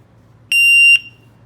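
A shot timer for an airsoft target system gives a single sharp electronic start beep, loud and close, holding for about half a second before cutting off, with quiet room tone around it.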